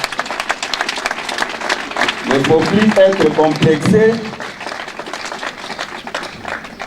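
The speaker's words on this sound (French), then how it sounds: "je vous demande encore d'applaudir très fort pour notre presse" Audience applause breaks out at a political meeting, a burst of clapping and crowd noise rising for a few seconds mid-clip, while someone speaks before and after it.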